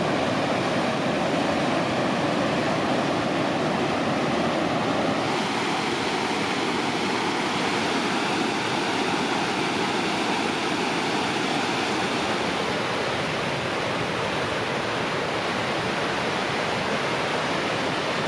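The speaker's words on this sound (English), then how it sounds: "So here are the Niagara Falls of Bosnia." A large waterfall in Bosnia and Herzegovina, known as the Niagara Falls of Bosnia, roars as a steady, dense rush of falling water that holds an even, unbroken level from start to finish, with no voices over it.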